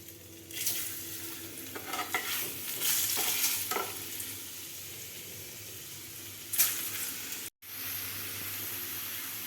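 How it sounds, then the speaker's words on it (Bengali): Potatoes fry in oil in a pan, a steady broadband sizzle with stirring scrapes and bursts of louder crackle, continuous and close with a brief dropout near the end; no talking. "এবার আলুগুলো ভেজে নেব।"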